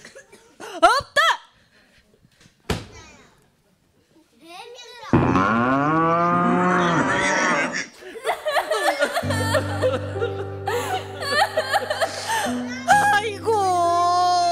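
A sick farm cow moos in a children's cartoon, a long low call midway through, surrounded by voices, chuckles and laughter.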